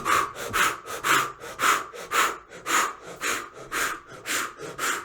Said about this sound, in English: deep breath in and let go and blow